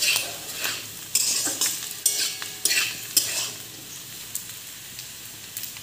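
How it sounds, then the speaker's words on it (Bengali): A spoon stirs ground turmeric and chili powder into frying ingredients in a pan, with steady scraping strokes over a soft sizzle, close and clear, no voices. "এবার ওর মধ্যে গুঁড়ো মশলা দেবো, হলুদ গুঁড়ো, লঙ্কা গুঁড়ো দিয়ে ভালো করে ওগুলো মিশিয়ে নেব।"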